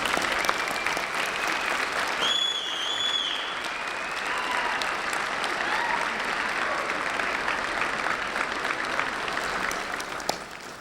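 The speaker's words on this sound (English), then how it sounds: "stand up and applaud your families who have supported you so fully" Graduates at a university summer commencement applaud their families in a sustained wash of clapping from a large crowd, steady throughout with faint voices mixed in.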